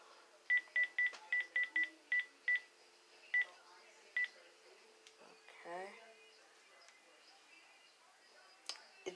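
A quick series of about a dozen telephone keypad tones, irregularly spaced, followed by quiet background and faint shuffling.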